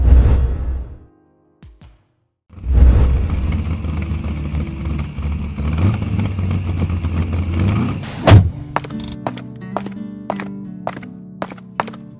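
A Vespa Matic scooter's engine hums loud and close after a brief pause, holding a steady drone before cutting off into a few sharp knocks.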